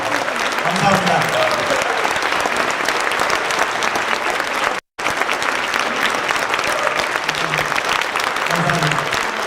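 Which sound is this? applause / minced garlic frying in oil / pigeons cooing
applause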